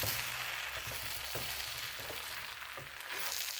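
Food fries in a pan and is stirred with a utensil, producing a continuous close hiss of sizzling oil broken by periodic soft scraping strokes.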